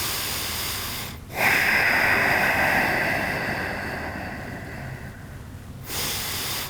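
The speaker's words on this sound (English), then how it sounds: "try to breathe deeply" Deep, slow breathing during a rocking hip yoga exercise: one long, loud, airy exhale lasting several seconds after a brief pause, then a fresh inhale starting near the end, close to the microphone with no talking.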